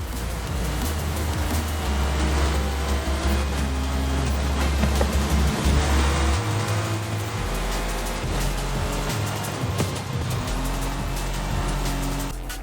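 A 1982 Porsche with a 3.3 liter engine drives in a racing game, its engine droning steadily with audible shifts in pitch and a continuous rushing road and wind noise.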